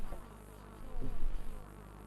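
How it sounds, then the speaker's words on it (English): Synthesized insect buzzing made in Pure Data for a Unity game, a steady, close drone that swells briefly louder around the middle before settling back to a constant hum. "So when the ball falls down and we get close enough, we should start to hear that buzzing"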